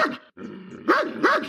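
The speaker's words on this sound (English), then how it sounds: "she's barking and acting a damn fool" A large female dog barks and growls in agitated bursts, with a brief gap and then two loud, rising growl-barks near the microphone.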